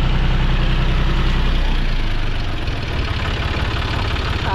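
Close and loud, a John Deere 5310 tractor engine chugs with a steady low pulsing knock after hauling free of deep mud, its rhythm loosening slightly toward the end.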